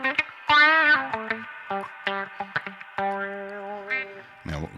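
An electric guitar played through an auto-wah with reverb on a Boss GT-1000 Core sounds a sequence of short plucked notes and sustained chords, each with a sweeping filtered attack and a ringing tail.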